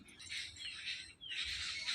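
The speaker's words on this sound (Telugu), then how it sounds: "చూసారా, సౌండ్స్ చాలా బాగుంటుంది పీస్ఫుల్గా." Sparrows chirp in a park in Tirupati, giving a dense, continuous twittering chorus that is fairly close and steady, briefly dipping before swelling again, with no speech.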